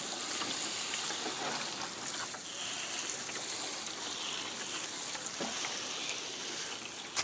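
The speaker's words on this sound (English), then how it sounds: "You want to wet it down really good the initial time." Water streaming onto and soaking a freshly filled compost bin, a steady hissing, fizzing wash with small splashy pulses, close and continuous with no voices.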